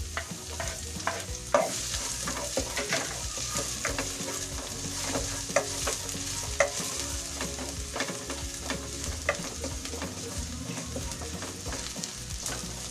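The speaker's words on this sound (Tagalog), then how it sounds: "Ayan po, gisa na lang po natin ang bawang." Garlic sautéing in olive oil in a pan while being stirred for a shrimp and bok choy dish, a steady close sizzle with repeated clinks and scrapes of a utensil throughout.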